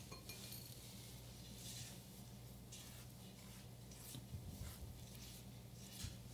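Gluten-free cookie dough made with all-purpose gluten-free flour is stirred with a spatula in a bowl, giving soft, steady scraping and light clinks that run continuously and fairly quietly.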